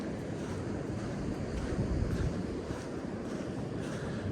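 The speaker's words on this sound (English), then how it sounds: "let you just listen to the sounds of the ocean" Ocean waves and wind on Hemsby Beach on a sunny day, a steady broad wash of surf with wind buffeting the microphone, no voices.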